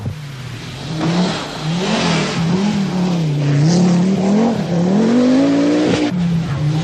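Turbocharged Audi Quattro rally car engine revving loudly and close, holding a steady rasping note that climbs in pitch, then dips briefly and settles back.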